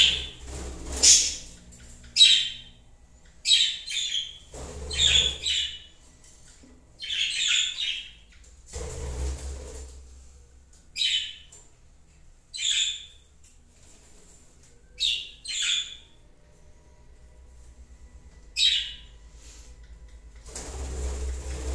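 Budgerigars with four chicks in their cage give scattered squawks and chirps, short bright calls spaced irregularly with quiet gaps between, some faint thumps underneath.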